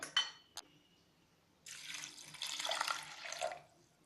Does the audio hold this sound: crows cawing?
no